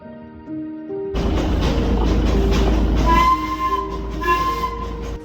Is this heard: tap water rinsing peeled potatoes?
no